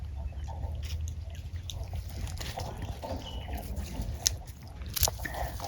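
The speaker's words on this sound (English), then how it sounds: "She's just been munching away on some butternut." A baby monkey munches on butternut squash, giving soft, close, wet chewing and biting sounds that repeat unevenly over low background rumble, with a few sharper clicks near the end.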